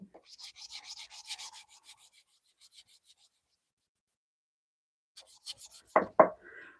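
Short bursts of 220 grit sandpaper rubbing on madrone wood for a hook knife, a soft scratchy rasp for about two seconds, then silence, then a brief sanding pass and two sharp knocks.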